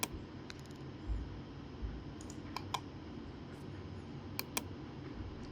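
Computer mouse clicks at a desk, a handful of faint, sharp, irregular clicks spaced apart over a quiet hum, with no talking.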